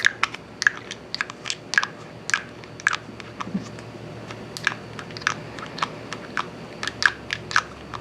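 A cologne bottle cap is clicked, tapped and handled close up in a quiet room, producing a run of crisp, irregular plastic clicks and light knocks, with no talking.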